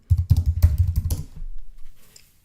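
A burst of quick clicking keystrokes on a computer keyboard, close and distinct, fading to a couple of lighter taps before quiet.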